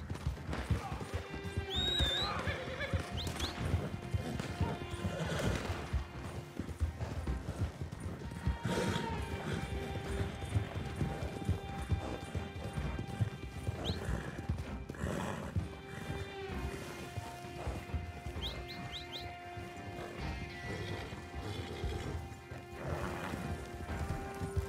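Horse hooves clop steadily with occasional whinnies over a busy Red Dead Online game soundscape with music and effects, plus a few sharp crashes.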